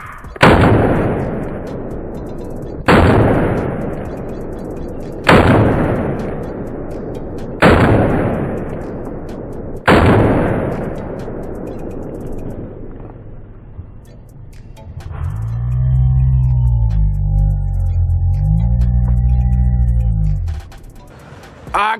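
Five loud, evenly spaced shots ring out from an AR9 pistol-caliber carbine fired in a darkened room, each with a sharp crack and echoing decay, followed by a low droning hum.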